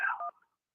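Telephone keypad dialing tone placing a call, one short electronic beep that cuts off quickly and leaves silence.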